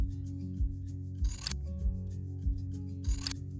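Scissors trimming the cord ends on a macrame wall hanging: two crisp snipping cuts about two seconds apart, close and clear, with faint rubbing and handling noises in between and a steady low background hum.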